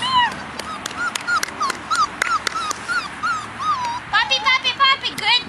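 Several dogs whimper and yip in high, wavering cries, with occasional barks, close by and repeated throughout, while a person talks over them in a coaxing voice.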